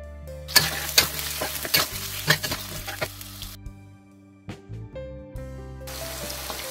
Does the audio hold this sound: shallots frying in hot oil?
yes